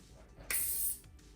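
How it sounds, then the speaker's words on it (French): Andrew Fitzsimons Primark hairspray released in one short, fine hiss lasting about half a second, close and clear against a quiet room. "Donc maintenant, spray, donc c'est une laque, hein, concrètement."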